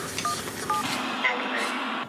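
Telephone keypad tones beep in a quick series of short dialing notes as a call is placed, with voices talking over them in a home setting.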